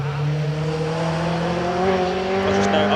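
A Rothmans Ford Escort rally car revs and pulls away at a hillclimb with a rising, strained tone, loud and close, holding steady over a few seconds.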